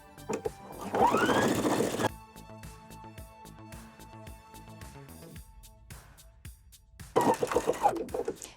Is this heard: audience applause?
no